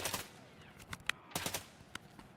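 Gunshots from a weapon fired from the hip in Tarkov Arena crack out in a quick irregular string of sharp reports, moderately loud with no talk.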